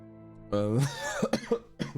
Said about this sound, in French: La grippe que j'ai entamée il y a plus d'un mois et demi continue à me faire tousser.